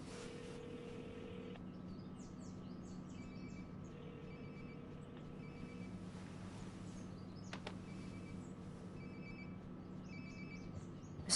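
A phone rings nearby in Life Is Strange: Before the Storm, a quiet electronic ring repeating in regular bursts over faint game ambience, with no speech.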